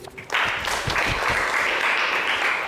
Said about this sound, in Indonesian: coba beri aplaus dulu buat Iji.